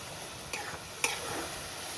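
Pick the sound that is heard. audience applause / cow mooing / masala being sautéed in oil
masala being sautéed in oil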